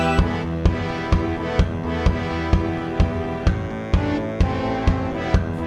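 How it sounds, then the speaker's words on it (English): A MIDI orchestral arrangement of a rock song plays at an even tempo, with full layered synthetic instruments and a regular accented beat pulsing under dense sustained tones, loud and continuous with no voices. "he creates a MIDI file of what he's written that sounds something like this."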